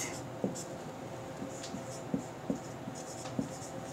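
Chalk or marker writing an example on a board, faint scratchy strokes with a few light taps, steady and soft against a quiet room hum.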